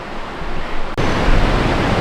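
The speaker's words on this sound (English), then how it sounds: "the sound of the waterfall is so loud" Box Canyon Falls in Ouray roars as a loud, continuous rush of falling water, close by, surging even louder partway through, with no one speaking.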